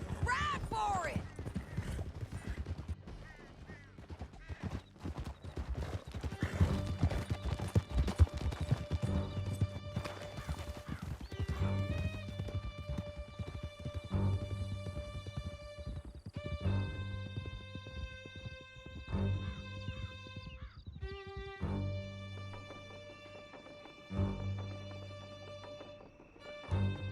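Horses gallop in Red Dead Redemption 2, a rapid continuous clip-clop of hooves with occasional whinnies, loud and close beneath a musical score, with voices speaking at times.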